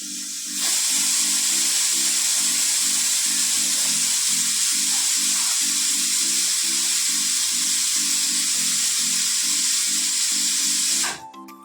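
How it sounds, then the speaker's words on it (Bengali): A loud, steady hiss of escaping steam from a pressure cooker boiling peas, with a low rattling pulse underneath, starting abruptly and cutting off near the end. "সিদ্ধ হচ্ছে প্রেশার কুকারে করে বসিয়ে দিয়েছি"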